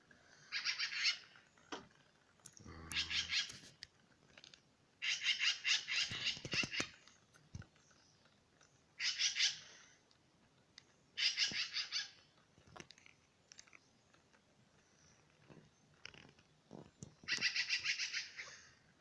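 A bird calls repeatedly near a rooftop, sharp bursts of squawking arriving in separate clusters every few seconds, fairly close and clear against a quiet background with no talking.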